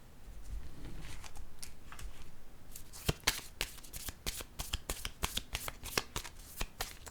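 Tarot cards being shuffled and drawn, starting as a soft steady riffle, then a rapid run of crisp, close card snaps and flicks in quick succession.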